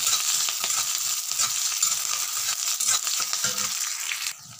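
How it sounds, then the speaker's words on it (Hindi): Chopped onion and green chillies sizzle steadily in a hot oiled pan, a bright continuous frying hiss with occasional stirring scrapes, close up and alone, dropping off at the very end. "इसको हम भून लेते हैं एक मिनट तक प्याज को"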